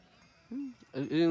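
A few goats bleat close by, one short low call followed by two louder wavering bleats in quick succession, with no talk over them.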